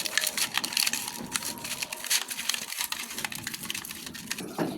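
Raw tilapia pieces being mixed by hand with turmeric, chili powder and salt give off close, wet squishing and soft crackling, continuous and fairly quiet, with no talking.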